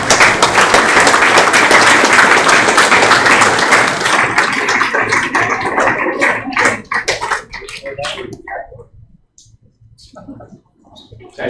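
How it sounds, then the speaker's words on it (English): Audience at a junior cricket presentation night applauding an under-12 or under-14 team, loud dense clapping that thins into scattered individual claps and fades to near silence, with some faint voices near the end. "let's give them a round of applause"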